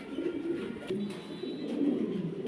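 Roman pigeons at a farm cooing softly and continuously, low throaty coos repeating close by at a modest level, with no talking.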